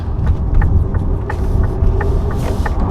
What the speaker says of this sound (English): right now I'm driving a car equipped with the winter tires